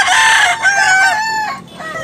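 A bull stag gamecock crows at close range, one loud drawn-out call that rises and then falls away over about two seconds, with nobody talking.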